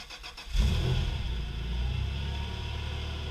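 A truck engine fitted with a homemade exhaust starts up and settles into a steady low idle rumble, close and fairly loud, with no one speaking.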